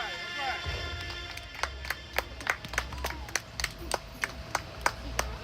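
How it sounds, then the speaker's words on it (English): An audience at an appreciation-of-Black-life community event claps with sharp, distinct hand claps at a moderate, irregular pace, some near and loud, over a low murmur of background crowd noise. "All right, y'all give one more round of applause"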